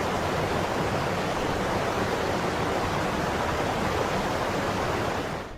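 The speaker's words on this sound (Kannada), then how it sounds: "ಪಶ್ಚಿಮ ಘಟ್ಟದಲ್ಲಿನ ಮಹಾಮಳೆಯಿಂದಾಗಿ ರಾಜ್ಯದ ಉತ್ತರ ಭಾಗದಲ್ಲಿ ಕೃಷ್ಣಾ ನದಿ ತುಂಬಿ ತುಳುಕುತ್ತಿದೆ" The flooded Krishna river, swollen by heavy monsoon rain in the Western Ghats, flows near Gurjapur bridge with a dense, loud, continuous roar of rushing water that holds steady throughout.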